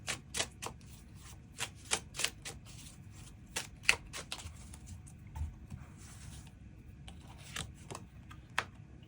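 Tarot cards are shuffled and drawn for a reading. Close, crisp flicks and slaps of cards come in irregular bursts over a quiet background, with no speech.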